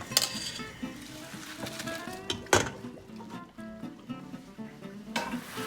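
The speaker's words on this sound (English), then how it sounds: "So my sauce is simmering." Quick tomato sauce simmers in a pan for chicken parmesan, with a soft sizzle and bubbling under repeated scraping and clinking of a utensil, including one sharper knock midway; no one speaks.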